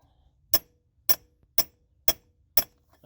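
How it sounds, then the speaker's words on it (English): Five sharp metallic taps, evenly spaced about half a second apart, as a socket knocks a short-throw shifter down onto the shift shaft of a Mk4 VW Jetta diesel; close and clear over a quiet background. "give it a couple taps with that socket in place"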